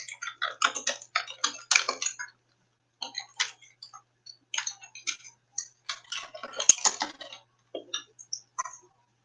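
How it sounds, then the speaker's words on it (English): Typing on a computer keyboard: close, crisp key clicks come in quick bursts separated by short pauses. "So I will type in the chat."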